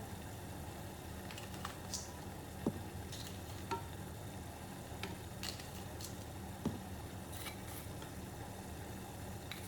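Ground beef fries in a pan with a faint, steady sizzle, joined by occasional light scrapes and taps of a utensil stirring the meat, quiet and without talk.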